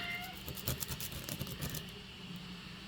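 A cat meows a few short times nearby, soft and brief, over quiet background noise.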